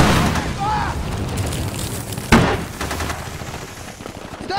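Gunfire in a military-style skirmish, with rapid, close, loud shots and one sharp blast under shouting voices, over steady background noise.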